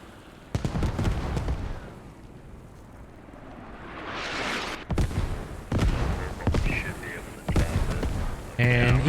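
Mortar fire in the video game Squad, with deep, heavy booms landing one after another at uneven intervals, rumbling over the battlefield under a speaking voice.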